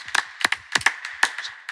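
A few people clap their hands at an event, producing sparse, separate claps about one every third of a second, fairly close and moderately loud, with no voices.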